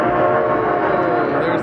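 Amusement park train engine running steadily close by, a continuous loud rumble with tonal whistle-like harmonics throughout, while a voice talks faintly alongside.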